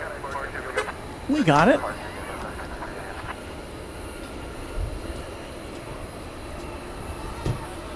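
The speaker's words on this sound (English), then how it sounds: "How about a 767 takeoff here?" A Boeing 767 takes off at night at DFW Airport, heard as a steady, distant broadband jet roar, while someone speaks briefly over it.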